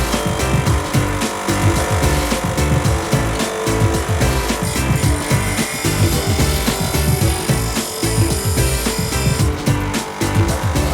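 A bench grinder sharpens a steel chisel in continuous, loud, close grinding with a rough rhythmic pulsing as the blade is worked against the wheel, with no voices.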